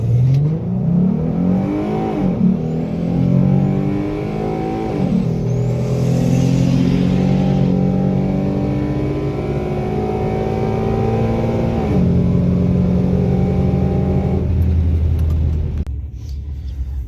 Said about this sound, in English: So I did a burnout